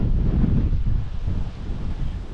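Strong wind on a mountain ridge in New Zealand's Kaimai Ranges buffets the microphone with a loud, steady low roar and no talking.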